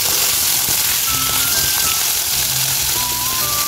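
Pomfret pieces fry in hot oil in a home kitchen, producing a loud, dense, continuous sizzle with scattered spitting crackles and no talking.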